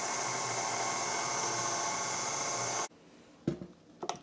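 Electric stand mixer with a paddle running at low speed through yellow cake batter, a steady close whirring hum that cuts off abruptly near the end, followed by a couple of clunks.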